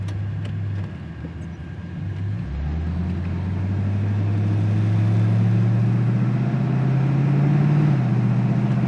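A 1976 Corvette engine hums at idle, then pulls away and steadily rises in pitch through the gears, growing louder as it drives off.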